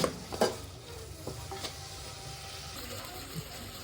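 Onions and curry leaves frying in a pan for a wedding-style karaikuzhambu, a soft steady sizzle with a few scattered stirring clicks and scrapes.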